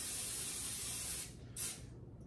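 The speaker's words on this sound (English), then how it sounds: "starting the stove and adding a little Pam cooking spray" A steady hiss of Pam cooking spray onto a pan on the stove for just over a second, followed by a short second burst, close and fairly quiet.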